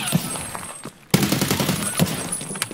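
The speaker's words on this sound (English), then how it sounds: "I'm blind firing." Blind gunfire in Escape from Tarkov, a fast rattling string of close, loud shots that breaks off briefly and then resumes in rapid bursts.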